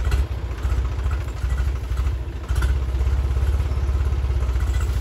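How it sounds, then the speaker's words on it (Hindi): A tractor engine labours as it climbs up into a hillside farm field, a loud, steady low chugging with rhythmic clattering pulses and a short dip midway before the throbbing resumes. "तो देखो कैसे जा रहा है ट्रैक्टर उस खेत में ऊपर"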